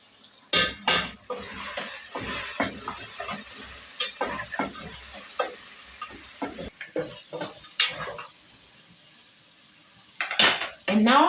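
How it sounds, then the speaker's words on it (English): A spoon stirs beef stew in a pot, clinking and scraping repeatedly against the metal in an irregular rhythm over a faint simmer, close and clear, with a louder burst of clatter near the end. "Let me stir."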